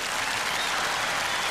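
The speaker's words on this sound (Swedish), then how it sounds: "Ja, vi ger Louise en applåd tycker jag." Studio audience at a televised Gladiatorerna competition breaks into dense, steady applause, a full wall of clapping hands at even loudness throughout.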